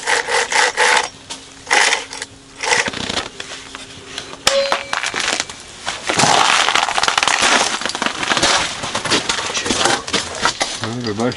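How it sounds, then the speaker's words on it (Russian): Hand sawing of firewood at an outdoor winter fishing spot, a rasping back-and-forth stroke of a saw through wood, uneven and close, with people talking intermittently over it. "Дрова пошла пилить, сейчас"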